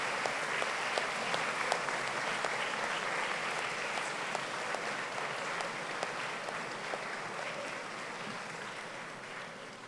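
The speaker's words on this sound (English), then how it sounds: "give them an enormous round of applause" A graduation audience at a Bath Spa ceremony applauds steadily throughout, a dense, sustained wash of clapping from a large crowd with a few sharper claps standing out.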